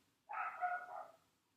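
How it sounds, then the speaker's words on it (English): A single drawn-out dog bark or yelp, muffled and somewhat distant, rising then fading in under a second against silence. "I apologise if you can hear Mavi barking"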